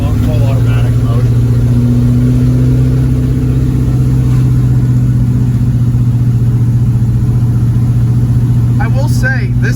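An International Scout engine runs loud and steady throughout, with a sustained mid-pitched drone that rises slightly as it revs during manual shifting, close and uninterrupted.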